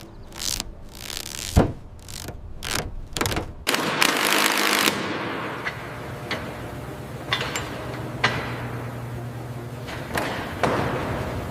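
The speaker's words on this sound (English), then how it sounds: "Removing the Allison V12 engine block, lifting it out of the nacelle with a crane." Metal workshop clatter from a crane hoisting a corroded Allison V12 engine block out of a recovered P-38 Lightning nacelle: ratcheting clicks and sharp clanks, then a steadier mechanical hum with scattered knocks.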